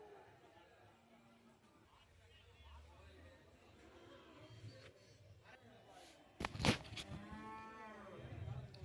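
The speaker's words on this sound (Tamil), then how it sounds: "அப்புறம் ஜாதி மாடு, வண்டி மாடு, எல்லா மாடுமே போட்டு வச்சுருக்காங்க." Cattle at a cattle market lowing amid a murmur of people talking, with a loud close clatter and a long drawn-out moo near the end over the ambient crowd noise.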